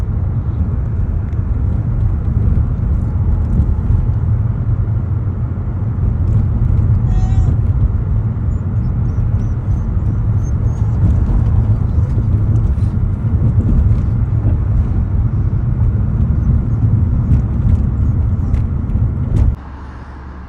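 Car driving along a main road in Flint, Michigan in January, a steady loud low engine and tyre rumble from inside the cabin lasting throughout before dropping off near the end, with someone talking over it.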